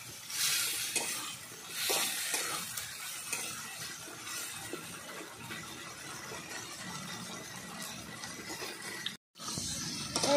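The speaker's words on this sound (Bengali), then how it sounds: "ভালো করে আমি কষিয়ে নিচ্ছি" Spices for a thin Bengali fish curry of bele fish with ground cumin and chilli powder sautéed in a pan: steady sizzling with stirring scrapes, close and fairly even, with a brief dropout near the end.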